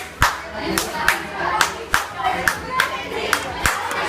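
Hands clap sharply about eight times at an uneven pace to set off an Arduino sound sensor at a science fair, each clap loud and near with a murmur of voices and room noise between.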